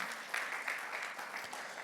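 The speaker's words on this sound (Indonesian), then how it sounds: "Berikan tepuk tangan." A church congregation gives a brief round of clapping during a Sunday worship service, even and continuous with a few sharper claps standing out, fairly soft and distant.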